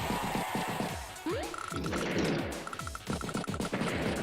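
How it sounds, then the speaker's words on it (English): A tank attacking and destroying a recon unit in the Advance Wars video game: a rapid string of chiptune-style gunfire bursts and crashing hits with a quick descending sweep, close and loud, with no talk. "Tank does hit the recon and does finish it off there"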